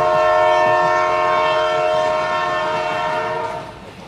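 A train running at night rumbles past close and loud, with a sustained horn-like tone held over the steady roll of the wheels, easing off slightly at the end.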